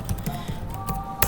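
Typing on a computer keyboard during a server login gives a quick, close run of light key clicks, about eight taps in just over a second, ending in a slightly sharper press.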